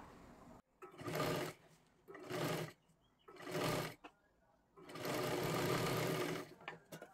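A sewing machine stitches the sleeve onto a katori blouse, its motor whirring in three short bursts and then one longer steady run, close and fairly loud.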